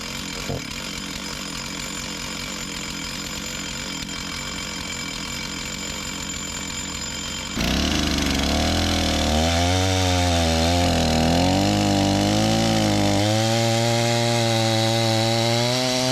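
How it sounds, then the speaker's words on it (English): A rebuilt chainsaw runs loud and close, holding a steady idle buzz before jumping to a harsher high-revving roar with wavering revs that rise and fall; no talking. "This is the chainsaw I rebuilt."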